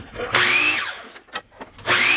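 A power saw cuts wood into 24-inch pieces in two loud, close bursts of whining, rasping cutting noise, separated by a short pause filled with lighter knocks and handling sounds.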